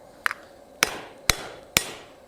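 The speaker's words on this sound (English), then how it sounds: "and then hammer it straight down" Four sharp, ringing hammer blows strike a hot steel ladle bowl set in a swage block while forging, evenly spaced about half a second apart, close and clear with short metallic decay after each hit.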